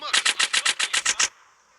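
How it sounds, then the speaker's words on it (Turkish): Rapid automatic gunfire from the video game GTA San Andreas, about nine sharp shots in a steady burst lasting just over a second, loud and close, then cutting off abruptly. "Kim ateş ediyor? Nereden ateş ediyor lan?"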